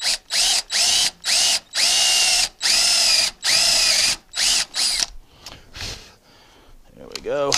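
A power drill with a step bit bores into a metal car part, heard as several loud whining bursts separated by short pauses, then quieter handling noises and a brief voice at the end.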